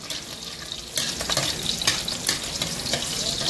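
Garlic sautés in a pan for a dish of tagparak jungle snails, a bright, crackling sizzle that flares loudly and then stays busy with stirring.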